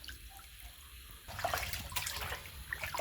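Water runs and splashes as raw fish is rinsed clean in a basin, a quiet trickle first, then louder, busier washing and sloshing for the rest of the clip.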